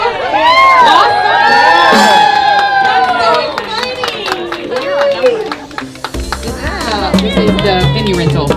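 Crowd at a wedding-vendor grand prize giveaway cheering and whooping loudly for a winner, many high excited voices shouting and squealing over scattered clapping, with people talking throughout.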